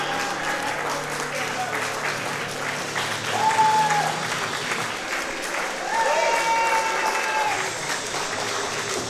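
A wrestling crowd in a church hall applauds steadily after a match, a full and sustained clapping that swells twice, with voices talking over it.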